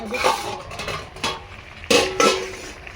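Chicken and potatoes being stirred in a pot for a Bengali-style home-cooked chicken kosha, with a few distinct clanks of a spoon against the metal pot and some scraping over a quiet kitchen background.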